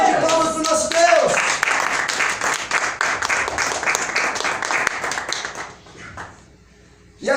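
A church congregation claps together during a Portuguese-language sermon, dense and fairly loud for roughly five seconds before thinning out and fading, while a voice carries over the clapping.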